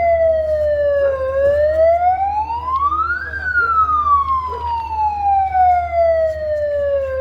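An air raid siren wails during a blackout mock drill in Patna, its pitch rising then slowly falling in one long, loud cycle over steady low background rumble.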